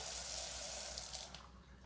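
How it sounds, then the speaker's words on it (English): Water runs steadily from a sink tap after it is switched to cold, a broad close hiss that thins out near the end, with no voices. "And then I'm going to switch the tap to cold."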